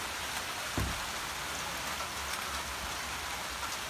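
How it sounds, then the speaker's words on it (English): Steady rain falling outdoors during a pre-hung exterior door installation, a soft continuous hiss of drops with a single brief knock partway through, faint and even throughout. "Rain won't stop"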